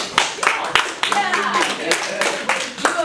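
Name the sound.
audience applause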